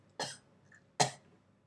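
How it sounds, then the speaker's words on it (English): Two sharp, separate coughs from a person with kennel cough, close to the microphone, spaced under a second apart with quiet in between. "sorry, I got kennel cough"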